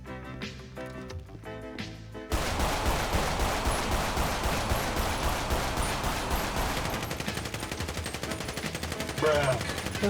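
Rapid bursts of gunfire in a GTA roleplay police session, sustained and dense for most of the stretch after a quieter opening, with some voice underneath.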